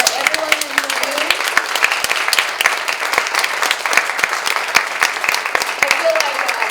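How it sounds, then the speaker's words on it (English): A theater audience at a season announcement applauds everyone in the room, a busy patter of many hands with sharp individual claps standing out, and voices talking over it at the start and end. "how about a big round of applause for everyone in the room?"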